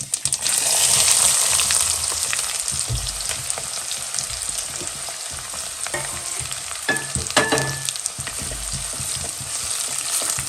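Loud, continuous sizzling of chopped small onions (shallots) frying in hot oil for a river fish curry, with occasional stirring clatter breaking through.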